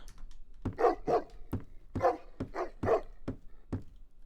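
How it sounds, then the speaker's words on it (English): A dog barks repeatedly in short, sharp bursts, played as a test sound inside an Unreal Engine 5 level while checking reverb and diffraction around a wall, fairly close with quiet gaps between barks. "when I play this dog"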